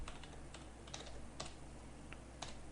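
Quiet, close typing of an article on a computer keyboard, irregular soft key clicks tapping at a steady pace over low background hiss, with no voice.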